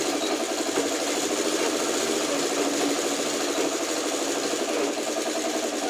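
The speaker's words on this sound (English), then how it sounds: "we're just going to run them through the sewing machine and nest that seam" A sewing machine stitching a nested quilt seam runs steadily, a fast even mechanical whir with rapid needle ticking throughout, close and continuous with no talk.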